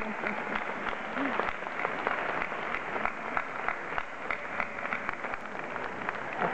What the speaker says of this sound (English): if you wouldn't mind joining me in applauding the people that have supported us